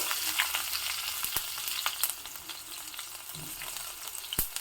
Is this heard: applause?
no